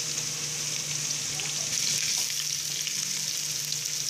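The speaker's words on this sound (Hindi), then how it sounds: "इसको हम प्याज के साथ ही फ्राई कर लेंगे अपने गरम मसाले को भी" Onion and garam masala fry in a pan with a steady, even sizzle that holds for about four seconds, with no talking.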